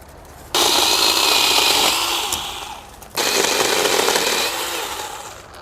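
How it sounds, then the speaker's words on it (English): A mini electric chainsaw with a slightly loose chain trims tree branches outdoors, making two long loud whining cuts, each starting abruptly and tapering slightly before stopping, with a brief quiet gap between them. "this saw is working great, but the chain's getting a little bit loose for my taste"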